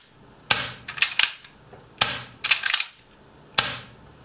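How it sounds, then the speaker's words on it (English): A gas-powered Oberez airsoft rifle modelled on the Nagant gives a few sharp, close pops, some followed by quick rattling mechanical clicks, with short silent gaps between them. "your gas, you technically don't have to cycle it all the way back, but it's a pretty decent muzzle pop"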